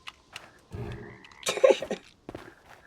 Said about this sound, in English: Oh, it's a frog